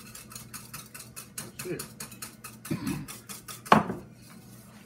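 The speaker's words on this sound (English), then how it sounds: "want to mix some of the pudding here to bring this into temperature." Banana cream pie pudding is mixed in a pot, with soft scraping and clinking of a utensil against the metal and one sharper knock near the end, under a short spoken phrase.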